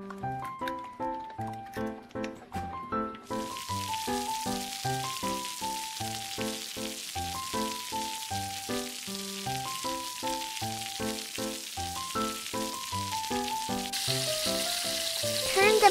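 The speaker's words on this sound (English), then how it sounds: "Crack a few eggs in the pan." Eggs fry in a pan, a steady hiss of sizzling that starts a few seconds in and continues under a loud, rhythmic melodic music track that dominates throughout.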